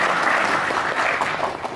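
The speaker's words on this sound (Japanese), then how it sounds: "それでは拍手をお願いします" A hall full of people applauds at a Matsudo Rotary Club culture and sports award ceremony, a loud, even wash of clapping that holds steady throughout with no voices on top.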